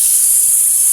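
Steam hisses from a pressure cooker in a loud, steady, close rush lasting about a second, alone.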